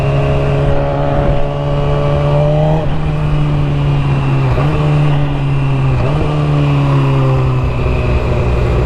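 A loud motorcycle engine drones close up while riding, its pitch dropping and rising through several downshifts, with no talk over it.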